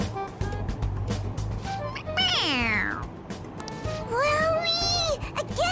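A toy cat in Persona 5 Royal lets out electronic meows when its head is pressed, two long gliding cries in a row over a low rumbling train-like drone, close and clear.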